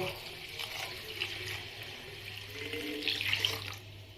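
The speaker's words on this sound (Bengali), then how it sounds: "এই চালটার মধ্যে আমি এখন জল দিয়ে দেব" Water pours steadily onto a kilo of Gobindobhog rice in a kitchen, a soft, continuous splashing stream that stays at an even level for several seconds and picks up a little near the end, with no voices.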